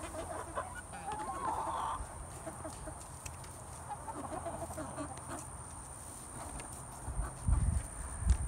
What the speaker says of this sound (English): But a 13-week-old rooster just learning how to crow.